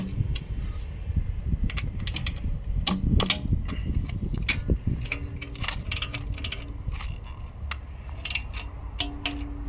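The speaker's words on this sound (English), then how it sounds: "So we'll go ahead and tighten those down." A ratchet wrench tightens the throttle body support bracket bolts on a Lexus IS300/GS300 2JZ-GE engine, giving rapid, close clicking bursts in uneven runs against metallic clinks and handling noise.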